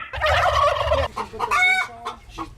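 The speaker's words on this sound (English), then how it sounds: "The turkeys, chickens, ducks, and geese all create a soundtrack" Turkeys gobble loudly in rapid bursts alongside chickens clucking on a farm in Marion, Louisiana, with ducks and geese nearby; the calls are close, busy and overlapping, with no talk.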